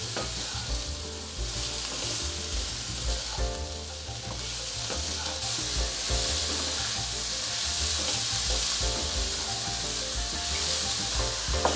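White beech mushrooms and purple asparagus sizzle and fry in a pan while being stirred, a steady crackling hiss with scraping and tossing throughout, close up and unbroken by speech.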